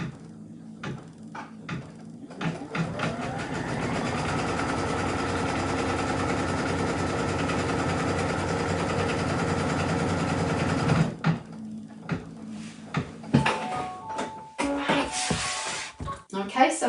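An embroidery machine stitches a zip bag held in the hoop, running in a steady mechanical whir for several seconds, with clicks and handling noises before and after.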